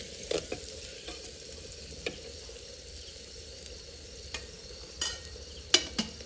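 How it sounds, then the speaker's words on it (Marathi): Onions fry in a clay pot for khichdi, a faint steady sizzle punctuated by occasional sharp scraping stirs close by, with no talking. "कांदा गोल्डन करून घ्यायचं आहे"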